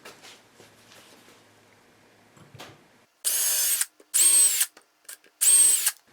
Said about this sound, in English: Pre-drill holes for the screws so that they don't crack